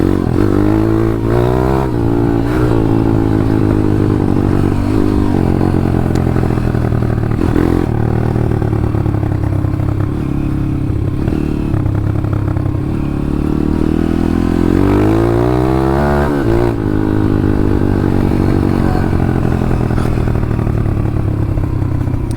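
150 RXF pit bike engine while riding, ridden without a working rear brake, a loud, buzzy single-cylinder drone close up that keeps running, rising and falling in pitch as the throttle opens and closes, with occasional rattles.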